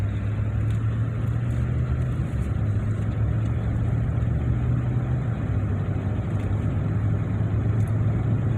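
A Ram pickup truck cruising along Highway 166 on the Davis Mountains scenic loop, giving a steady low engine drone and road rumble that stays loud and even throughout, with no talking.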